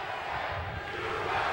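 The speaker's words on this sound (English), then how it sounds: "And you hear the crowd at the Foxwoods are chanting USA." Boxing crowd at Foxwoods chanting during a bout, a dense, steady roar of many voices filling the space without a break.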